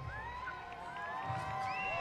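A brownie troop of girls at an Irish parade in Mystic, CT, lets out a shrill chorus of overlapping high-pitched screams and shouts, sustained and lively over crowd noise.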